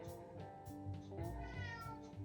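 A house cat meows close by, a few drawn-out, tonal cries in quick succession with no one talking over them.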